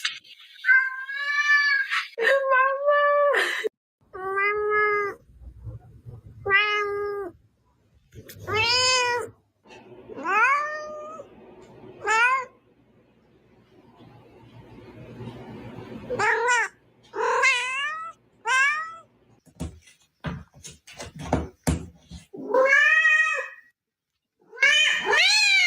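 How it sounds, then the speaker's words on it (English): A domestic cat meows repeatedly over roughly 25 seconds, a long series of loud, close, drawn-out rising and falling cries with short pauses between them and no talk. "That does sound like our cat."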